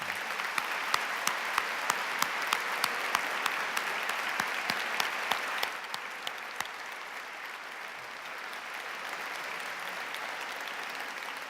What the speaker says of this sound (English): please just give him a round of applause and thanks